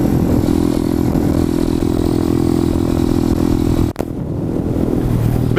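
A motorcycle engine held at a loud, steady roar while a rider pulls wheelies nearby, then a sudden clunk and a sharp drop in engine noise near the end.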